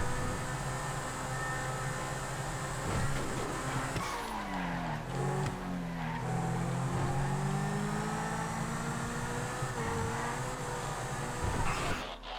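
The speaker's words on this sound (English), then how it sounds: "Just a race car." A race car in a GTA FiveM online race skids with squealing tires while its engine revs and shifts through gears, loud and close with no talking.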